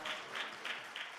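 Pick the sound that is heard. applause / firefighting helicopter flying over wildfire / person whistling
applause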